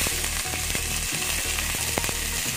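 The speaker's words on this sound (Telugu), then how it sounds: "ఆయిల్ వేడయ్యాక నేను ఆనియన్స్ వేసుకుంటున్నాను." Onions fry in about three tablespoons of hot oil in a pan, giving a steady, dense sizzle with soft crackles throughout and no voices.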